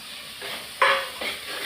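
Garlic and tomato sizzle and hiss in hot oil in a pan for a garlic kulambu, with a few stirring scrapes that bring short louder bursts of frying close by.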